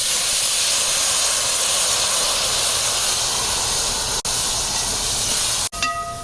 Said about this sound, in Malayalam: നമുക്ക് പുളിവെള്ളം ഒഴിച്ചു കൊടുക്കാം